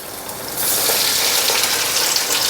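Veg cutlets dipped in maida batter go into hot oil and burst into a loud, dense sizzle about half a second in, holding steady and bright close by until the end.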